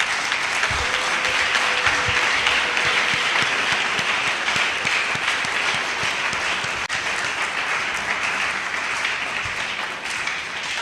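Audience at a university inaugural lecture gives Professor Obeng a long, sustained round of loud, dense applause that holds steady for about ten seconds, fading slightly at the end.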